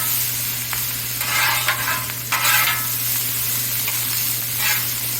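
Fried rice with sesame oil hisses on a Blackstone griddle, a close sizzle broken by several bursts of scraping and stirring from a spatula, with no talking.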